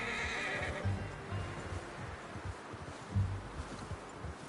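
A horse whinnies twice in the video game Red Dead Redemption 2 over a busy background of rustling and hoofbeats, with no speech.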